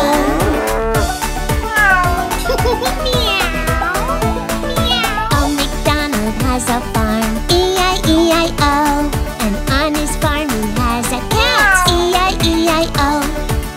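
Sung cat meows woven into an Old MacDonald farm nursery rhyme, a voice imitating the meowing over a steady, loud children's song backing with bouncy rhythm throughout.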